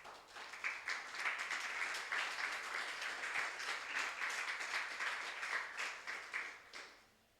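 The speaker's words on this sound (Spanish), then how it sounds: "¿Le podemos dar un aplauso al Señor?" A church congregation claps in applause, a sustained, fairly distant and soft wash of many hands that holds steady for around seven seconds and then fades out.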